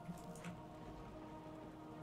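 Rain falling in the Morroblivion game, a faint, steady patter of drops that holds evenly throughout with no talking.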